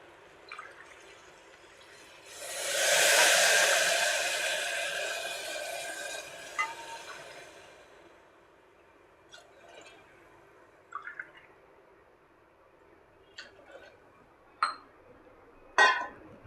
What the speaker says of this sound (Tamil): இதால் நான் 4 டம்ளர் தண்ணி விட போகிறேன்.